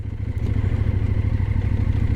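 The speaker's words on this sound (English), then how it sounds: "I'm using the torque of the engine, no throttle at all, just to move along slowly at 8 miles an hour" An adventure touring motorcycle engine chugs slowly at idle with no throttle, a loud, close, steady low thumping pulse that keeps an even rhythm throughout.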